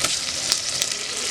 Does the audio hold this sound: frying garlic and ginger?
yes